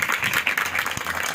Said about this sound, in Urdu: زوردار تالیاں بجا کر خدا کے نام کو مبارک کریں